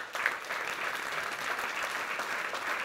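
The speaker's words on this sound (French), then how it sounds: "Merci pour les applaudissements." Steady audience applause fills a hall during a New Year's address in Cassis, many hands clapping densely and evenly at moderate distance, with no voices over it.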